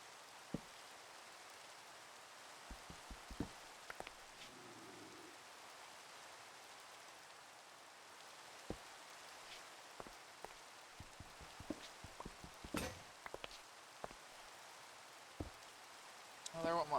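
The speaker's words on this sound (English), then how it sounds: "It is raining" Rain in the Minecraft video game, a soft, steady hiss of falling rain at low volume, broken by scattered faint clicks and taps, with a brief quiet voice partway through.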